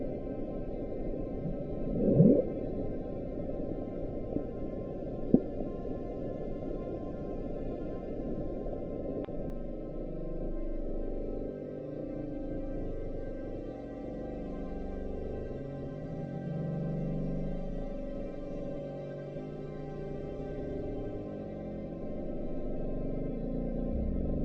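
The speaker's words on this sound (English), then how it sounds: "the bloop was just a sound of Antarctic ice cracking and had fallen into the water" The Bloop, an underwater recording of Antarctic ice cracking and falling into the ocean. It is a low, rumbling, sped-up swell that sounds distant and murky, with a couple of brief sharp knocks near the start before a long, even hum.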